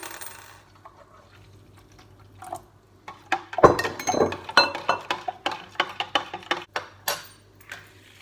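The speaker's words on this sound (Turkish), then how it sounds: "Şimdi buz kalıplarımın içerisine döküyorum bunu." Cold coffee poured into ice cube trays: after a quiet start, liquid splashes and trickles into the plastic moulds in several close pours, with clinks and drips between them.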